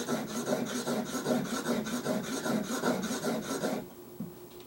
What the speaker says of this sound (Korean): 숫돌로 좀 곱게 잡아주고 있는 겁니다